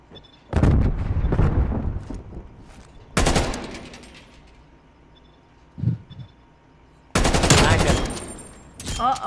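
A sentry turret fires in the Call of Duty Cold War video game, loud bursts of automatic gunfire coming in several separate volleys with quieter gaps and a brief thud between them.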